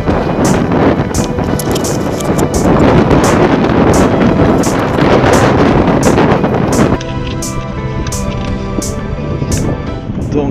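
Gusty wind buffets a handheld Maxxter HD body camera microphone outdoors, a loud, steady rumbling roar that drops slightly after about seven seconds, with faint rhythmic ticking above it.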